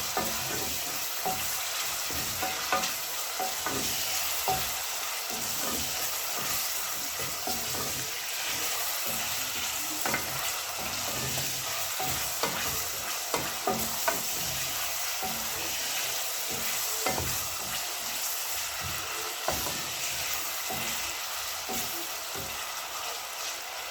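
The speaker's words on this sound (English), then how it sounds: "Now I'll cover it and continue stirring until it gets soft." Beef fries in a pot under a long, steady sizzle, with repeated stirring scrapes and clacks of a utensil against the pot at an even, close, moderate level, and no talking.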